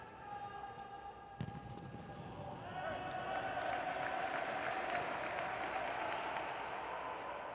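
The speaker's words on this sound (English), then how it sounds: "Both benches lively with applause and cheers" Applause and cheering from both futsal team benches at a Concacaf Futsal Championship match between Dominican Republic and Guatemala in an arena with no crowd, building after a few seconds into steady clapping and shouts, with a ball bounce early on.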